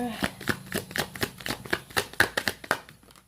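Tarot cards are shuffled and pulled in a quick run of about a dozen crisp, close riffling snaps at an even rhythm, with a voice talking softly underneath.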